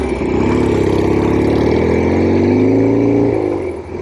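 A 1967 Norton P-11 desert racer motorcycle engine revs loud and close, a rough, throbbing drone that holds high and steady for a few seconds before easing off at the end.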